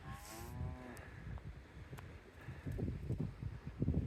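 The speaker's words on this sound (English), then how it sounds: "it's hard to tell with all the wind blowing" Gusty wind in a snowy blizzard roars as a steady broadband rush, swelling louder toward the end, with a brief moaning tone near the start.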